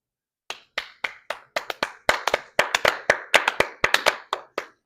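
A single person clapping hands, sharp distinct claps starting sparse then speeding into a fast irregular run of about twenty, close and dry with no talk.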